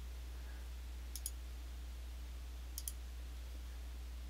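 Two quick pairs of crisp mouse clicks, separated by a pause, sound faintly against a low steady hum while working in architectural drawing software.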